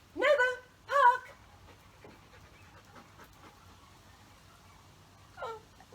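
A dog pants and whimpers during trick training in a park, with two loud, close vocal bursts at the start and a softer one near the end, over a faint low hum.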